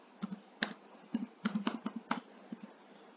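Quick, light keystrokes on a computer keyboard tap out a short burst of typing, close and fairly quiet with uneven rhythm and small pauses, and no voices.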